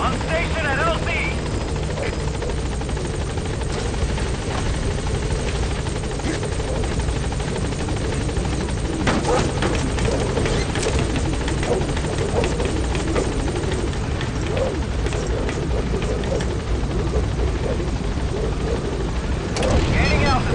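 Pequod support helicopter from Metal Gear Solid V: The Phantom Pain arriving at a landing zone, a steady loud rotor drone holding throughout with brief rises, voices speaking over it.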